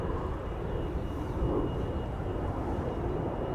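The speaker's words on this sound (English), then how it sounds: "Off to Gothenburg, Embraer 190, KLM flight" A KLM Embraer 190 airliner at Schiphol Airport produces a continuous low, rumbling jet roar at moderate distance, steady in loudness with no voices.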